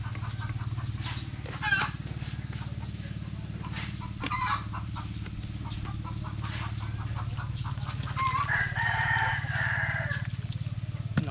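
Chickens cluck steadily over a low farmyard hum, and a rooster crows loudly near the end.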